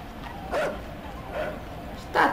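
A dog whining in short high-pitched whimpers, three separate cries spaced across the moment, fairly close over quiet background.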